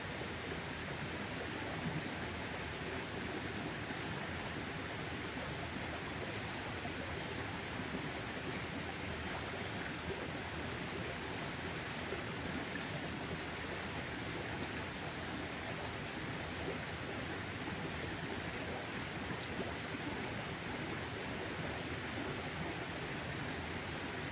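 Forest waterfall spilling into a stream, a steady broadband rush of flowing water that holds constant and fairly loud throughout with no voices.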